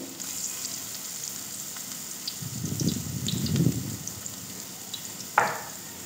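Pakoras fry in hot oil with a soft, continuous sizzle that swells into louder bubbling bursts midway, ending with a brief sharp clink, and no one speaks.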